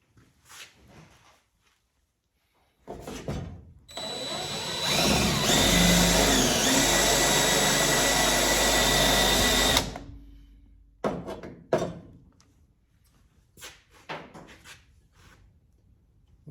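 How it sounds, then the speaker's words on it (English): A power drill bores out spot welds in the floor of a 1969 Dodge Coronet, whining loudly and steadily for several seconds. Softer clanks and handling noises come before and after. "I'm gonna start with the spot welds, cutting that off and kind of getting that all together"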